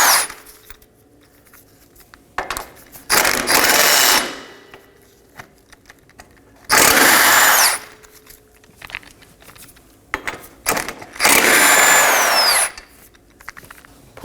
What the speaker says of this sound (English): Use an impact gun.